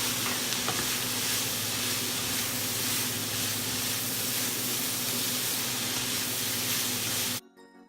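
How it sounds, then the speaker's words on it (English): Carrots and celery sauté in a pot for homemade-stock macaroni soup. A loud, dense, unbroken sizzle runs for about seven seconds, then cuts off abruptly. "And now we are ready to add in our carrots and our celery. I'm just going to saute this again for a few more minutes"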